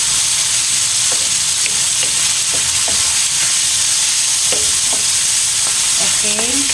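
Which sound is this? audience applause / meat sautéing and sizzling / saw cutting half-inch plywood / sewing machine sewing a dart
meat sautéing and sizzling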